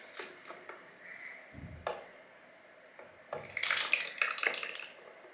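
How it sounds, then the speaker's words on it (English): Water poured into a slime coloring mixture, a few soft splashes and trickles, then a brighter burst of pouring near the end, quiet and close. "Then we're going to put water."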